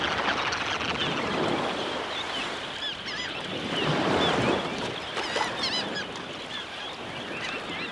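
Large numbers of shorebirds feeding on horseshoe crab eggs along a beach call in a busy, overlapping chatter, partly buried under a constant wash of surf and ambient noise.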